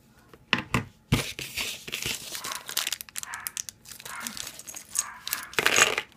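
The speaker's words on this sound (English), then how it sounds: "let me just grab my scissors here." Toy packaging for a Kreo Star Trek figure being snipped open with scissors, heard as close, bursty crinkling and tearing of plastic and card in irregular bursts over several seconds.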